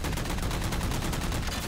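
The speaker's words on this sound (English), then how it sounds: "Wow, he's still shooting me." Rapid, continuous gunfire in Halo 4 capture-the-flag multiplayer on the Ragnarok map, a dense, loud burst of evenly spaced shots filling the whole moment with no pauses.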